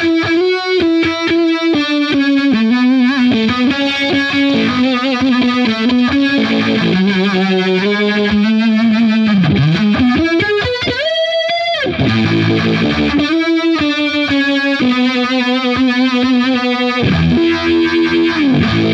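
An electric guitar runs through a Digitech Jimi Hendrix multi-effects pedal in its red solo mode with univibe, playing a long distorted, swirling lead with bends and slides, loud and continuous, with no talking.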